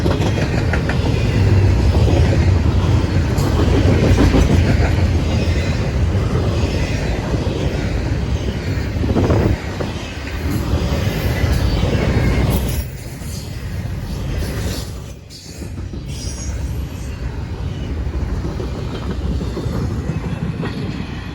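A CSX freight train passes near a level crossing, with a long, loud, continuous rumble of rolling wagons and rhythmic wheel clatter. The sound eases slightly toward the end, and no one speaks.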